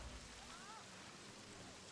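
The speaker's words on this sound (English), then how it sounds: "Okay, rain." Steady rain in Riders Republic hisses as a dense, even wash, faint and continuous with no breaks, and a voice is heard faintly beneath it.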